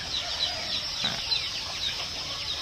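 Chickens clucking and peeping on a farm raising chicks, a steady busy chorus of small chirps and clucks close by, with no talk.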